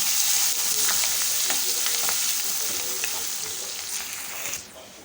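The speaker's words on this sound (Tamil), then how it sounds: "இஞ்சி துருவல் கலந்து விட்டுக்கலாம்" Grated ginger and green chillies stirred into a hot tempering in a pan, a steady loud sizzle of frying oil with scattered scraping clicks of the spoon, easing slightly toward the end.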